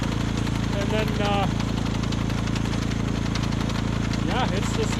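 An old elevator machine runs with a steady, droning engine hum and rhythmic mechanical chatter throughout, with a voice talking faintly over it in places.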